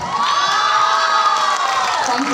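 A crowd at an awards event cheers and whoops loudly, a dense burst of shouting voices and applause lasting a couple of seconds.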